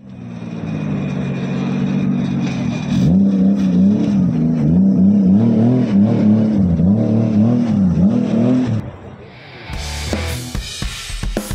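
A Honda RA272 race car engine, shown at the Japan Mobility Show 2025, revs loudly in rising and falling surges for several seconds, then drops away into mixed background noise.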